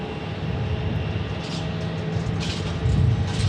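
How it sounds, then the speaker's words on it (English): A China Airlines passenger jet lands at Phoenix Sky Harbor Airport, heard as a steady distant engine roar that swells louder near the end. "We just had China Airlines land."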